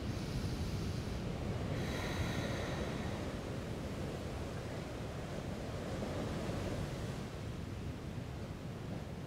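Steady, continuous ocean surf rolls along by the sea with a broad, unbroken wash of waves throughout, no voices.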